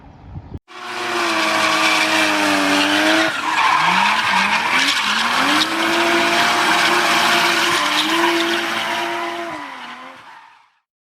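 A Chevrolet truck engine roars to life and revs hard, its pitch sweeping up and down in steady surges, loud and close, with no talking.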